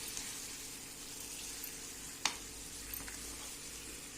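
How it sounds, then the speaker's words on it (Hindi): Kadhi frying in a pan in a village kitchen, a steady soft sizzle running throughout with one brief sharp clink partway through, no voices. "हमने कढ़ी फ्राई कर दी।"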